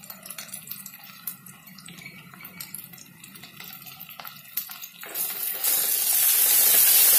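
Sprouted fenugreek seeds dropped into hot oil for fenugreek kuzhambu: scattered close crackles and pops build into a loud, continuous hissing sizzle.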